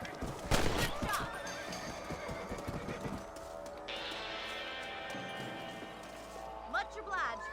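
Horses in the Red Dead Redemption video game whinny loudly up close, with clip-clopping hooves underneath and a second neigh near the end, while voices talk over much of it.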